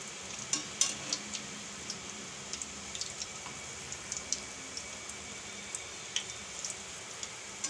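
A potato and gram flour snack fries in oil while the pieces are slowly turned. A soft continuous sizzle runs throughout, dotted with light clicks and taps from the utensil.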